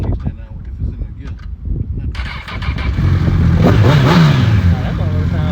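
A Honda CBR 1000RR motorcycle engine cranks and fires up, settling into a loud, close, rough idle with a brief rev, while people talk over it.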